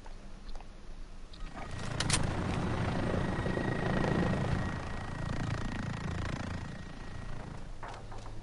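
Aircraft roaring overhead in the Call of Duty: Modern Warfare beta on PS4, a steady loud engine drone swelling around the second mark and holding through most of the stretch amid game noise.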